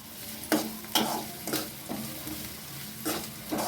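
Onions sautéing in a pan for drumstick poriyal, with about seven distinct spatula scrapes in an uneven rhythm over a faint steady sizzle.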